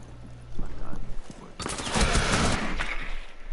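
Gunfire in a Rainbow Six video game match breaks out as a dense, loud burst of rapid shots that follows a quieter stretch and keeps going to the end, with a voice talking underneath.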